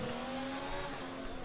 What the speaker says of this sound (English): Raikkonen slamming on the brakes